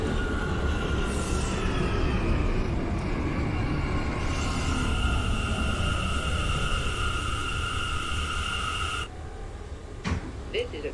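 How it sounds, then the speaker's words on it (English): An NYC subway R179 train runs in the OpenBVE train simulator game, a loud steady roar with tonal motor whine, easing and quieting near the end with a few clicks. "This is a Brooklyn-bound C local train."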